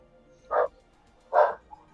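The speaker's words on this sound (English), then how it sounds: "like I said, dog sounds happy." A dog barks happily indoors, two short, fairly loud barks about a second apart, with a faint yip just after the second, over a quiet room.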